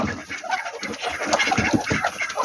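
Several desi (native village) chickens of mixed breeds cluck busily and continuously close by, a dense overlapping chorus of short calls with no speech.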